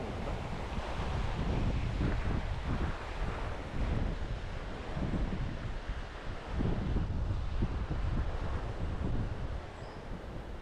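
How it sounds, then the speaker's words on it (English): Gusty wind roars steadily in a remote valley by a river, buffeting the microphone in heavy, rumbling surges with no talk over it. "Bit of weather coming in, a bit windy."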